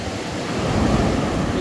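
Sea waves break and wash along a beach on a fishing outing, a loud, continuous rushing surf mixed with wind noise on the microphone, with no voices.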